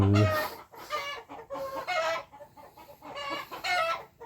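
Chickens cluck and a rooster gives a short call in a rural Thai home setting, with several repeated bursts of clucking at moderate volume and brief pauses between them.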